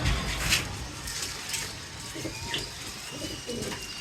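A pigeon coos in low, soft rolling phrases that repeat over a few seconds, close but fairly quiet, with faint background noise and occasional brief chirps.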